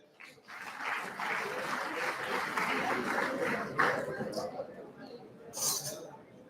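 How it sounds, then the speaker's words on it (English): An audience at a university Engineer's Day celebration applauds the Pro-Chancellor with a broad wash of clapping lasting several seconds, while a voice talks over it. "Sir, please give a huge round of applause, guys."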